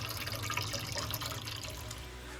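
Beer wort, a traditional English-style IPA, pours from the brew kettle into a fermenter with a steady splashing, gurgling flow, close and fairly quiet, no talk.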